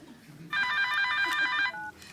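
A telephone rings in a TV comedy, one long electronic trill burst followed by a shorter fragment, clear over a quiet room background.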